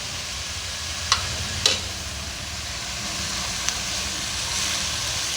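Onions frying in oil for a Peshawari mutton karahi, with ginger garlic paste being added: a steady broadband sizzle throughout, broken by two or three sharp clinks of a spoon against the pan, with no talking.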